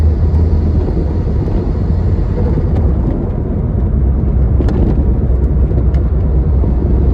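A Ford Escort with a worn wheel bearing drives at speed, heard from inside as a loud, steady low road rumble and engine drone, with no talking.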